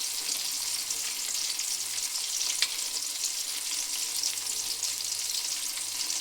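Tomatoes with a little garlic fry in a pan, giving a steady soft sizzle with faint crackles and a brief stir near the middle, fairly quiet and with no talking.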